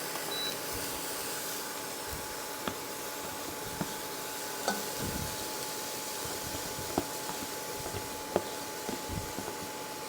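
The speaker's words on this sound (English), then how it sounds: "I'll saute that for about 6 or 8 minutes until it gets good and brown" Diced onion sautéing in a pan over turned-down heat, a steady soft sizzle with occasional faint clicks and stirring taps, continuous and fairly quiet.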